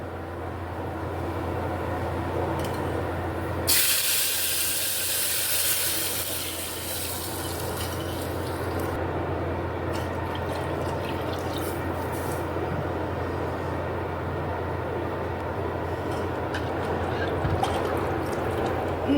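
Tamarind water is poured into fried chillies in a pan for rasam, a sudden loud gushing splash that lasts several seconds and then settles into faint trickles and bubbling over a steady low background hum.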